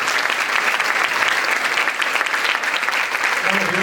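A lecture audience breaks into dense, continuous applause, loud and steady from start to finish, with many hands clapping at once.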